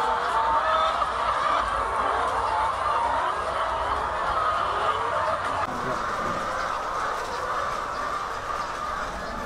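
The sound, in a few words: laying hens clucking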